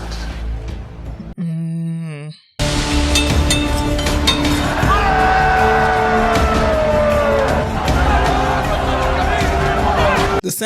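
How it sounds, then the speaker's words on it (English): Arena crowd in Gladiator roaring and clamoring in a loud, dense swell after a brief quiet pause, with shouts and whoops rising over the continuous din. "The sound of this crowd is a bit more terrifying because they're waiting for somebody to die"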